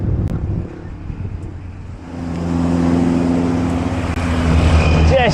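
A car on the road into Ruteng, Flores, heard from close by as its engine grows louder and steady, with a motor rumble and rising tones near the end; a voice is present underneath.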